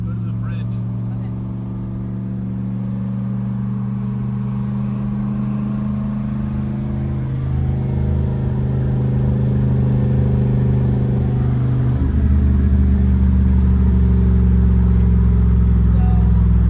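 A turbocharged LS V8 in a six-speed manual Camaro drones from inside the cabin while driving, its low engine note rising steadily, with voices talking over it.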